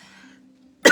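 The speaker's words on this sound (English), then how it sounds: "I always cough when I talk too much." A single sharp cough bursts out near the end, loud and close, after a brief low hum of breath and quiet vocal tone.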